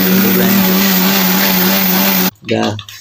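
An electric grinder whirs loudly and steadily as it grinds rice batter for ghee pitha, then cuts off abruptly, followed by a person speaking.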